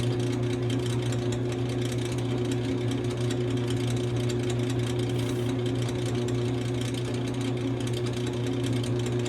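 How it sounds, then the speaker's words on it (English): A drill boring out a frozen steel door hinge pin on a 1940 Ford coupe drones at a steady pitch without a break, a constant mechanical whir with a gritty buzz underneath. "So drilling this hinge out, it's slow but sure."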